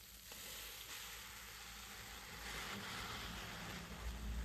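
Onions and tomato fry in a pan for squid pepper dry, giving a soft, continuous sizzle and crackle that holds steady and quiet throughout with no voices.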